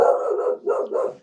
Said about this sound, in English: Oh, pardon the dog.